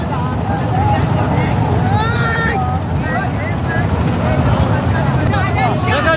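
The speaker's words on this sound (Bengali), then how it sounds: "তিনটে নৌকার টান শুরু হয়ে গেছে" Crowd noise and loud commentary ring out over a traditional boat race on the Kaliganga river, where three long rowing boats pull hard; a constant dense roar of voices, whistles and cheering fills the scene with no pause.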